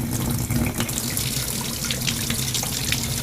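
Hot water runs from a tap into a basin, a steady rushing stream with faint splashing throughout, close and continuous with no voices.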